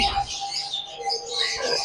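Lutino Fischer's lovebirds chirping in quick, high twittering bursts, close by and continuous, with no talking.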